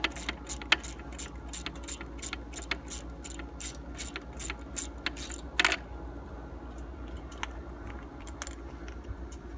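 A 10mm socket wrench on a Kawasaki engine bolt of a zero-turn mower gives rapid repeated ratcheting clicks in quick bursts, then a louder metallic clink and sparser ticks, close and fairly quiet.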